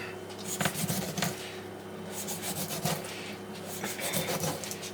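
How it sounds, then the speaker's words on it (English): Crinkling aluminium foil being folded around a seasoned tilapia fillet for steaming, a quiet run of rustling, rubbing and crumpling with a few sharper crackles and no talk. "I'm gonna stick it in the foil because I'm gonna cook it in the foil"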